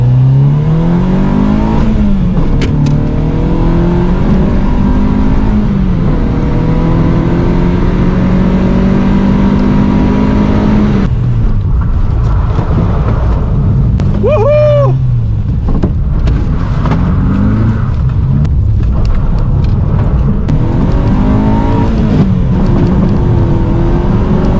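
A restored car, a Peugeot 205, on a short drive to dry it off: steady loud engine drone with rising and falling revs through gear changes, heard from close by and continuous throughout.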